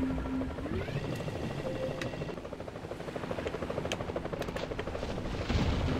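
A boat explodes in the video game Jaws Unleashed, with a heavy burst near the end rising over a steady rumble of engine and gunfire-like game noise.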